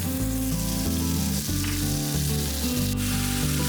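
Onions and napa cabbage kimchi stir-fry in an oiled pan with a loud, steady sizzle, punctuated by repeated scraping and stirring strokes, heard close up and without talk.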